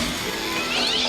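A cat meows, one drawn-out cry that is loud and close, with no talk over it.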